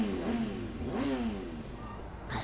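A motorcycle engine in the video game Sleeping Dogs revs in a couple of rising, whining surges, then settles to a lower steady drone, moderately loud and close.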